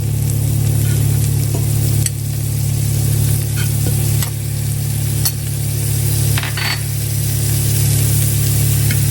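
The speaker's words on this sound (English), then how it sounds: "now we're going to go in with some butter. Put that down in the skillet so it can melt" Butter melts and sizzles in a hot skillet alongside crisping potatoes, giving a steady, bright frying hiss. A few sharp pops and clinks break through the sizzle.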